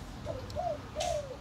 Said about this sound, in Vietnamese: Con này là nói chung mà treo đâu nó cũng kêu chứ á